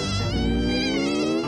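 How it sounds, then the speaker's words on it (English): Cartoon mosquito buzzing in a kids' animation, a close, continuous, wavering high-pitched whine lasting about a second and a half with no voices. "It's a mosquito."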